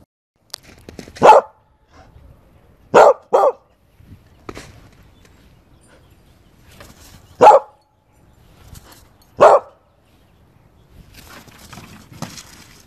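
A Corgi Husky mix dog barks in short single and double bursts, about six loud, close barks spaced a second or two apart, with quiet pauses and faint background sounds between them.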